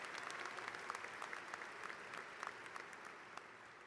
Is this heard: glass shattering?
no